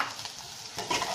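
Chopped capsicum and carrots tossed into a pan of softened onions for chilli garlic noodles, giving a brief, close sizzle with stirring that swells louder toward the end. There is no talk.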